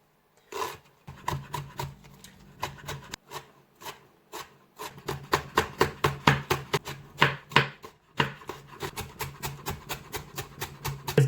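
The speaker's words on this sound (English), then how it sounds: "so let's begin to chop" A knife chops vegetables for omelette sandwiches on a wooden board, sharp close taps coming in uneven bursts that quicken into a fast steady run, with brief pauses between them.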